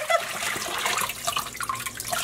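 Tap water running and splashing as more water is added to rinse soap out of food-coloring-dyed yarn, a steady close hiss lasting throughout with no talk.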